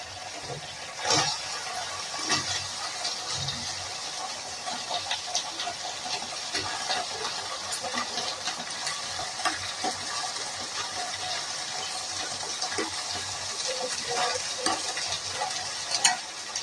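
Fried vegetables for shukto tossed into a mustard spice paste in a pan, giving a soft steady sizzle with intermittent scraping and stirring clatter throughout, fairly quiet.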